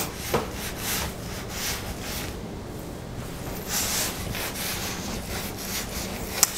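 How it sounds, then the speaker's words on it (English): Putty knife scrubbing and scraping paint off wood, a continuous close, rasping rub with uneven strokes and a few sharper scrapes, no talking. "if you just scrub it, it's just pulling the paint up"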